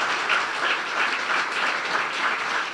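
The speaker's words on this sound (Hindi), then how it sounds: "यस्सु के जलाल के लिए जोरदार तालियां बजा दें" A church congregation at a sermon breaks into sustained applause, a steady wash of many hands clapping at moderate volume with no voices over it.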